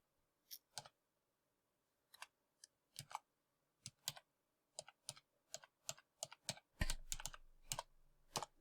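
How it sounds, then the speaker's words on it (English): Typing a username and password on a computer keyboard, sparse close clicking keystrokes in irregular bursts that speed up toward the end, with a faint low hum joining in the last seconds. "so I should be able to type in my username"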